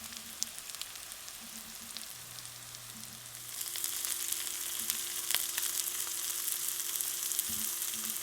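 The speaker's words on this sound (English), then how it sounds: "I like to fry the chicken before I bake it because it gets a little crispy" Breaded chicken fries in a pan with a steady, moderate sizzle that grows louder partway through, alone with a few faint background tones.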